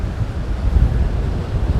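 Strong wind buffets a boat at sea in rough surf off a jetty, a constant loud low roar of gusts and crashing water with no voices.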